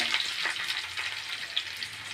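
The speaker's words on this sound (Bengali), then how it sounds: "দিয়ে দিচ্ছি 1 মুঠো পেঁয়াজ কুচি" Chopped onions hiss and sizzle in hot spiced oil for a country chicken curry, a close, steady frying sound broken by light stirring scrapes and occasional pops.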